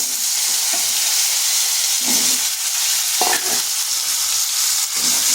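Diced potatoes fry in hot oil for an egg and potato curry, giving a steady broadband sizzle throughout with a few soft stirring scrapes and spoon knocks, fairly close and alone without talk.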